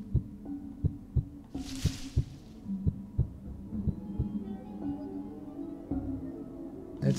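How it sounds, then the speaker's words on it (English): Heartbeat sound effect in the video game Paper Lily, a steady series of low thumping double pulses repeating at a moderate pace, with a faint hum beneath and a brief hiss partway through. "The heartbeat gets faster that way no matter what."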